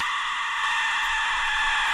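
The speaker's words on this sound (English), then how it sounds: "let's listen to the Aztec death whistle" An Aztec death whistle gives a sustained, piercing shriek like a human scream, harsh and steady at high pitch, lasting about two seconds without pause.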